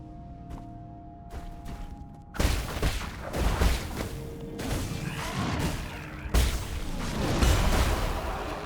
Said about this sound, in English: The explosions when they die from the talisman is so strong, it one-shots the big guys.